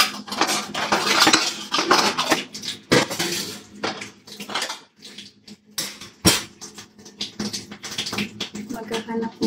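Dishes and cutlery clattering during washing-up, with repeated sharp clinks and scrapes of pots and silverware close by, in bursts with brief pauses and occasional talk.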